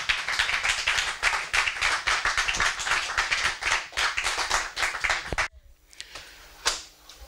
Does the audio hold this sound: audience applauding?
yes